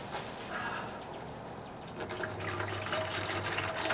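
Liquid pouring into a Hudson sprayer tank for a mold and fungus treatment, a steady close splashing gurgle that fills out and grows slightly fuller over a few seconds, with no talk.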